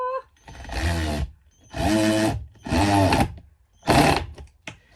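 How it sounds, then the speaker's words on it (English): A power drill drives screws through wood into wood underneath while laminate flooring goes into a van conversion. There are four loud, close bursts of whirring, each about a second long, separated by short pauses. "I'm screwing this wood into wood that's underneath."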